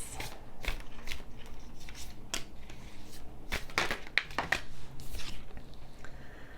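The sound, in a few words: handling and drawing tarot cards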